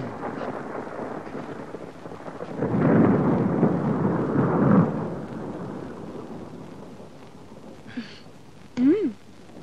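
Night rainfall with thunder in a Malayalam film scene: a steady wash of rain throughout, a heavier rolling rumble swelling in the middle, and a brief voice near the end.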